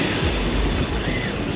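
A spinning fishing reel's drag screams as a big shark runs with the line, a loud continuous ratcheting buzz that holds steadily throughout without speech.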